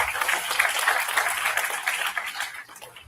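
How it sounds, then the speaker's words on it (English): At the ESTE 2026 event, an audience claps for itself after being named winners. The dense, lively applause is close and loud at first, then gradually thins and fades toward the end. "So we can clap off for us."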